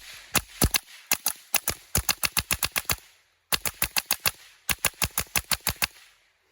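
A Beretta Fishtol pistol-caliber firearm empties a full magazine in rapid semi-automatic fire at an outdoor range. Loud, sharp shots come in quick bursts of about a dozen, with a brief pause partway through.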